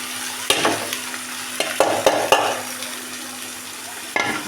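Ivy gourd pieces tipped into a pan of frying onions and tomatoes, steady sizzling with several sharp clatters and scrapes of a spoon stirring, close up, no voices.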